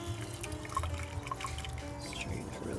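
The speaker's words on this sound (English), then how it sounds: "the tea is ready, and next step is to strain it" Brewed loose green tea being poured through a strainer for kombucha, a steady close trickle of liquid with small drips and splashes against low background hum.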